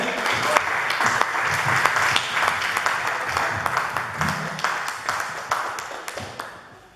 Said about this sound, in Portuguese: Então aplaude a Jesus, amém?